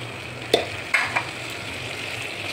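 Chopped tomatoes added with curry leaves to browned onions in a pan, a soft continuous sizzle under a low hum, with a few sharp clatters and scrapes as the mixture is stirred.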